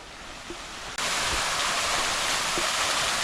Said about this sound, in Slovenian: zdaj pa prihajamo do lepega termalnega slapu